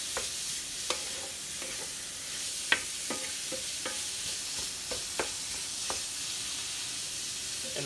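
Food being stirred in a sizzling pan during weekly meal prep, steady frying hiss throughout with intermittent spoon scrapes and taps against the pan, close and clear.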